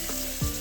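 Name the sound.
chopped onion and vegetables frying in oil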